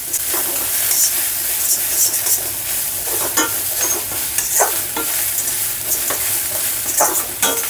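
Finely grated coconut fries and sizzles in a pan for coconut rice while a utensil stirs and scrapes it steadily, a continuous close hiss with no talking.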